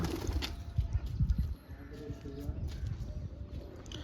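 Pigeons cooing close by in a loft with several birds, soft low repeated coos and rustling over a quiet background, with faint voices at times.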